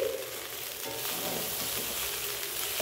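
Fried rice is stirred in a pan over a low flame, a soft continuous sizzle with faint scraping from the stirring, close and steady, with no voices.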